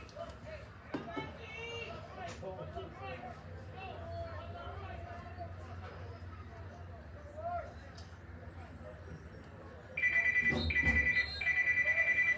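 Telephone ringtone trills in bursts near the end during a break in a Columbia vs Guilderland basketball game, following a stretch of gym crowd chatter, children's voices and people talking.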